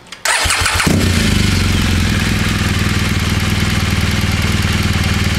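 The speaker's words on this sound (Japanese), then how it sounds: "エンジンをね、一旦始動させます" BMW R series K51 Adventure motorcycle engine cranks briefly and fires, then settles into a loud, steady, close-up idle that runs to the end.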